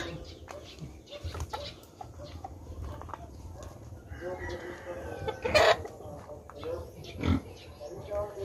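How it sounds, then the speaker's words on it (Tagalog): A pig on a Filipino backyard farm grunts and squeals in short bursts, mixed with rooster crows and clucking chickens nearby, while someone talks over much of it. "So ito na ang baboy."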